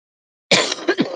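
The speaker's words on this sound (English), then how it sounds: "I'm sorry about the coughing" A close, abrupt burst of coughing after a moment of silence, several harsh rasping coughs in quick succession.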